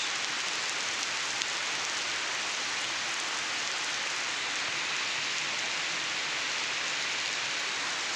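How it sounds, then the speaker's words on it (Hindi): Steady, heavy rain pours down continuously, a dense wash of hiss and patter with no voices. "बहुत तेज़ बारिश हो रही है।"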